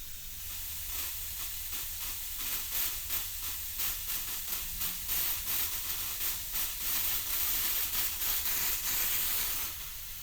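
Compressed gas rushing into a storm-prep tank through an open valve, a steady loud hiss with a faint rapid fluttering pulse that holds for about ten seconds, no voices.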